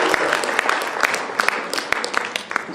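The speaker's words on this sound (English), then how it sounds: "I think we should clap for this beautiful" An audience at a spiritual retreat bursts into brisk, uneven clapping, with distinct individual claps popping out over a lively wash of applause.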